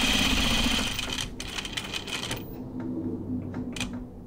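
A sewing machine runs a rapid, buzzing stitch through denim jeans for a couple of seconds, then stops, leaving scattered light clicks and taps.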